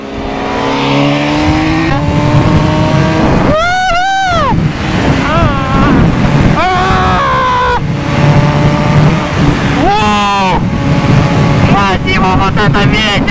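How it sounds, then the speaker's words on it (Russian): Strong wind buffets a Honda Fireblade motorcycle ride as a loud, constant roaring rush. Someone speaks and shouts over it in bursts throughout. "Вот это ветер адовый, я вам отвечаю!"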